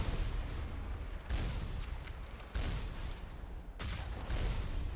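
Broad bursts of turret gunfire in the video game Mass Effect, arriving in dense noisy volleys with brief lulls between them, loud and close with a low rumbling body.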